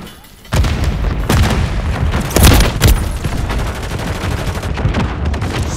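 Frag grenade blasts and gunfire in Call of Duty MW3 multiplayer on the Rust map: loud booming bursts and crackling shots follow one another over several seconds, with dense battle noise throughout.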